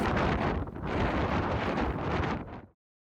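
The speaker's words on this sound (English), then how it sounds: "Strong south wind has arrived today on the last day of the Snow Sculpting Championships." Strong south wind blows outdoors at a snow sculpting championship, a loud, steady broadband roar buffeting the microphone with a brief dip before cutting off abruptly near the end.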